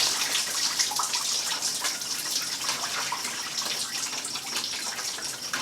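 Engine coolant runs from a disconnected hose during an oil filter housing gasket job, a continuous splashing pour of liquid, close and steady throughout, with no talking.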